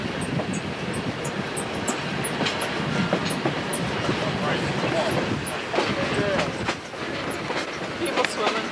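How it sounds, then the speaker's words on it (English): A train rolls along the rails with a steady rumble and rhythmic clacking, faint high squeals above. "It's neat with this train."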